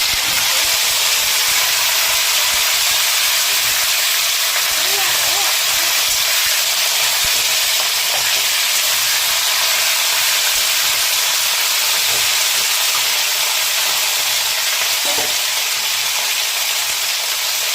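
Bottle gourd stems, potato and green banana hit a hot pan tempered with five-spice and white cumin, giving a loud, unbroken hissing sizzle that holds steady throughout with almost no voice.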